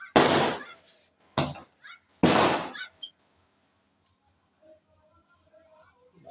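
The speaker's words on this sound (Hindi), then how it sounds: "भाई पटाखा फोड़ रहे हैं" Firecrackers set off outdoors at a wedding celebration, three or four sharp loud bangs in quick succession with crackling tails, then scattered faint pops trailing off.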